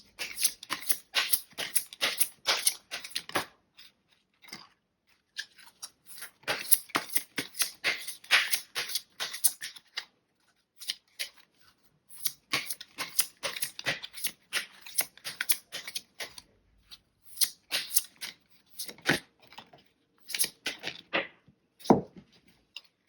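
Tarot cards being shuffled and handled, a run of quick crisp riffling flutters in several bursts separated by short pauses, close and fairly clear with no talking.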